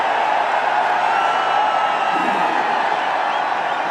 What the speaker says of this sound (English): Have a look at the crowd.